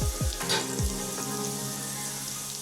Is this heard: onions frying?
yes